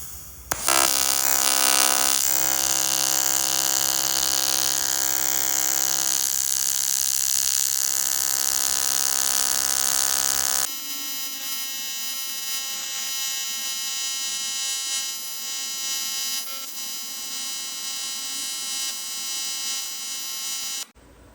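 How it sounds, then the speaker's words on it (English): TIG welding on a propeller repair produces a loud, steady electric buzz with a sharp tonal whine that drops in intensity partway through, then continues as a thinner humming tone, with no speech. "you also turn off when I turn the TIG torch on"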